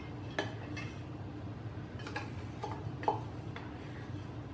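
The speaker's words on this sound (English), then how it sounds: "Probably use a little spoon to dig all that out." A little spoon scraping and tapping inside a blender jar to dig out ground spices for mole sauce, giving light intermittent clinks and ticks over a low steady background hum, close and quiet.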